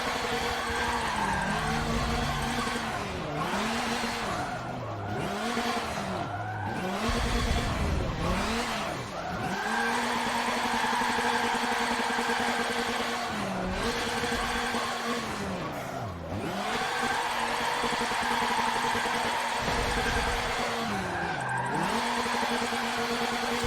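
Engine of a car drifting in Forza Motorsport 7, revving up and down in repeated surges as the throttle is worked, with tire squeal and skidding running through the whole stretch, loud and steady without any talk.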